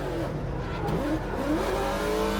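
Porsche drift car revving hard on a racetrack, a loud continuous engine roar with rising and falling pitch as it accelerates up a hill, with faint tire noise.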